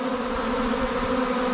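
Swarming honey bees fill the air with a dense, steady buzzing drone, close and continuous, with no voices.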